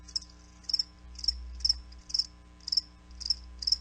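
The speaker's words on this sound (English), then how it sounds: "That's right, crickets." Crickets chirp in a steady repeating rhythm, about eight short bursts evenly spaced over a faint low hum, clear and close with no voices.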